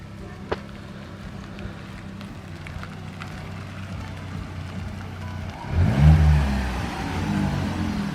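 A new sports car's engine idles low at first, then swells into a loud, rumbling rev around the middle that holds steady to the end.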